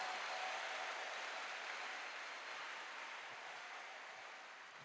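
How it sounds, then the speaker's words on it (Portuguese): A church congregation applauds during a Catholic Mass, a soft, distant wash of clapping that holds steady and slowly fades, with no voices on top. "uma salva de palmas para Jesus"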